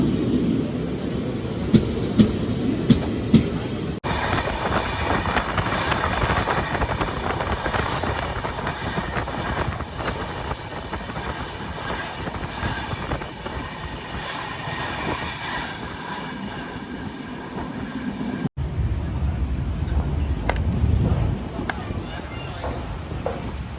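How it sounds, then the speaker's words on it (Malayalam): A Thiruvananthapuram–Tirupati train roars past a moving train for about fifteen seconds, loud and close, with a steady rushing rumble and a sustained high whine; quieter carriage noise runs before and after. "തിരുപ്പതി ട്രെയിനാണ് കേട്ടത്."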